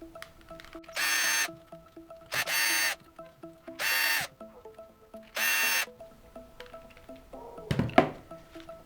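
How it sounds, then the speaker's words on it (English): A power screwdriver backing screws out of a WLTOYS 144001 RC car, with four short whirring bursts separated by small clicks and taps, close up and loud. "So now you have 4 screws that need to come out."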